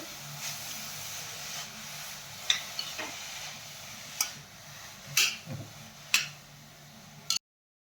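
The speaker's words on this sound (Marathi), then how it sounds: "आपल्याला गाजर छान तुपामध्ये 4 ते 5 मिनिटे परतून घ्यायचं आहे" Grated carrots frying in ghee over medium heat for gajar halwa, a low steady sizzle broken by several sharp spoon taps and stirring clicks against the pan, close and quiet.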